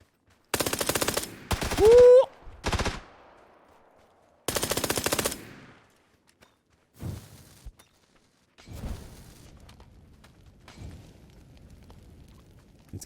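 Gunfire in a PUBG console match: a couple of sharp automatic bursts come close together, then several single shots and short echoing reports trail off more faintly between gaps of quiet.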